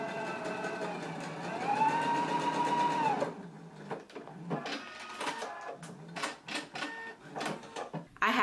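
A sewing machine stitches a reinforcing seam on a pants front, first running in a continuous whirring whine for a few seconds, then stopping and starting in short quick bursts, close by with no talking.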